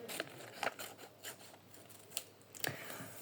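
Quiet, repeated snipping and rasping of scissors cutting through paper, close by, in short irregular strokes with no talking.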